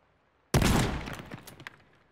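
A single loud shotgun blast fired in the video game Teardown, with a sharp crack that rolls off into a scattered, crackling tail of debris over about a second and a half.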